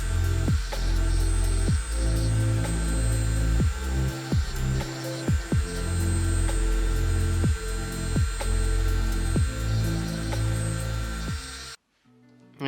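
Dremel rotary tool grinding a large crystal opal, a steady motor hum with repeated short bursts of contact grinding throughout, cutting out abruptly near the end.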